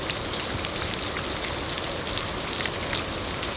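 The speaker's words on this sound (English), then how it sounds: "This has been the whole day, on and off rain." Steady rain pours outside a garage addition under construction, a dense continuous hiss of drops drumming on surfaces, close and even throughout with no voices.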